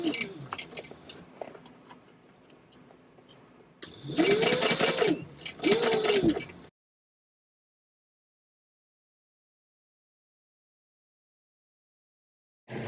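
Sewing machine stitching a popcorn bucket bag at a 4 stitch length, with two loud bursts of fast mechanical stitching separated by a brief pause for a back stitch, followed by silence.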